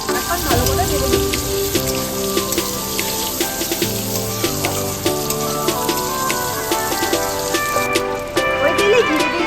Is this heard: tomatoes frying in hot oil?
yes